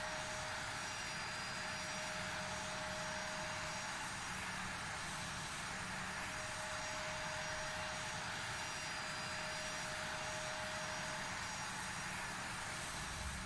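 Idling CRJ regional jet engines in a flight simulator, a steady, loud whine with a sustained tonal hum and broad roaring hiss, unchanging throughout with no voices.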